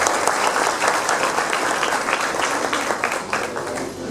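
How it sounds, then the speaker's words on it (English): Audience at a school junior-wing Expression Day event applauding a guest, a loud sustained round of many hands clapping with individual claps standing out, steady throughout and easing slightly at the end. "give a huge round of applause to Mr."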